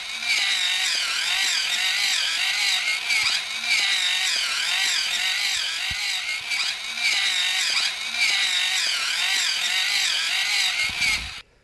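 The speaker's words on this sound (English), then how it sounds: "Once they're all center punched, you want to drill them." A power drill whines loudly and continuously, its pitch wavering as it bites into center-punched holes for a V8 Pontiac Firefly oil cooler, ending in a brief clunk.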